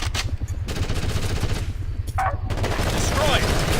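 Bursts of automatic gunfire in the Ghost Recon Advanced Warfighter video game rattle in rapid repeated volleys at moderate loudness, with game voices speaking intermittently over the shooting.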